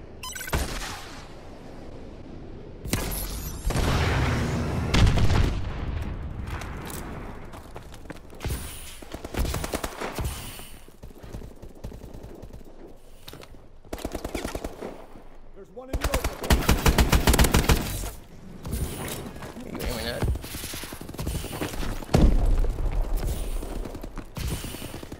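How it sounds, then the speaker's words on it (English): Call of Duty: Advanced Warfare battle with friendly missile strikes and heavy gunfire, loud bursts of automatic fire and booming impacts come and go over about 25 seconds, with voices heard at times. "Friendly missile strikes incoming."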